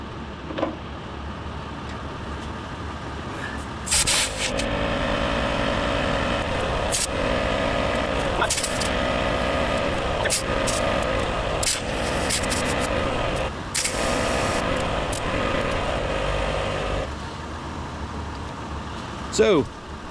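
An ARB portable air compressor inflates a vehicle tire with a steady, loud mechanical drone that runs throughout, broken by occasional sharper bursts and clanks.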